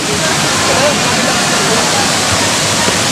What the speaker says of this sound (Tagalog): Ito po yung lugar ng Malata Falls Labo.